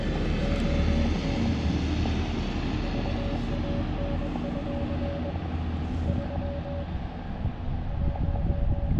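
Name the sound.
tractor driving by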